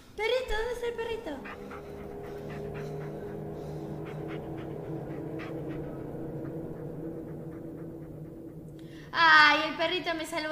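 A dog in the Blair Witch horror video game pants steadily for several seconds over low game ambience, with a soft whimper, and a person talks briefly at the start and near the end.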